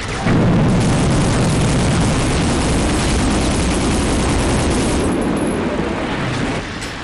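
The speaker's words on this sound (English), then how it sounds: "Those guys blow up rather spectacularly" Explosions of enemies in the shooter game Soldiers of Fortune, a loud, continuous roaring blast wash that rumbles for several seconds and eases slightly near the end, with no voices.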